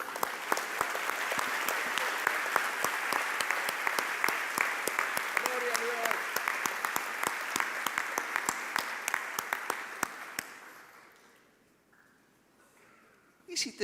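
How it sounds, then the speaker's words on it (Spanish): Dense applause from a church congregation at an Easter service, many hands clapping steadily for about eleven seconds before dying away to near silence, with a few scattered claps at the very end. "Un aplauso a Dios."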